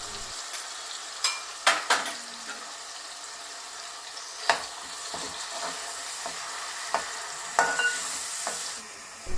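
Green chili, ginger and garlic paste with coriander, cumin and poppy seed powder frying in a pan for a Rama fish curry, heard as a low steady sizzle broken by intermittent sharp scrapes and clanks of a spoon stirring; no speech.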